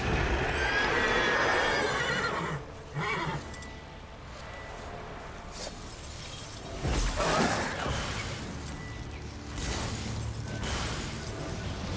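A horse in the Witcher 3 video game whinnies loudly against a dense, busy ambient bed, with a few louder bursts and no talk.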